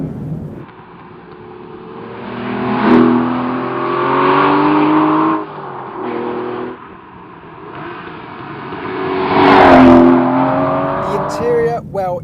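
A 510-horsepower 6-litre V12 car driven quickly, its engine revving loudly and rising through the gears with a deep, close roar while someone talks over it.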